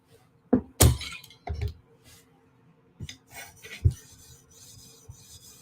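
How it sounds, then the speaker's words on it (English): Knife blade drawn across an 800 grit sharpening stone in a few separate passes, giving brief rasping scrapes and knocks with quiet gaps between them; no talking. "do one more pass at 800 grit on this side quickly"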